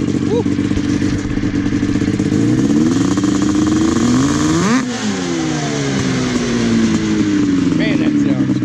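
A 1997 SKS 700 snowmobile engine with aftermarket pipes revs hard up close, loud and continuous, its pitch climbing, peaking midway, then dropping and rising again, while voices talk over it.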